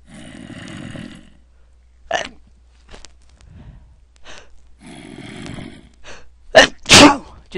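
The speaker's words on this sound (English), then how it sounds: "sneezed twice there, if you can't tell." Two loud, close sneezes from a person in quick succession near the end, following quieter breathy sounds and a few faint clicks during Minecraft gameplay.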